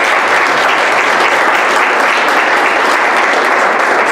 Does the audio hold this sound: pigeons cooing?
no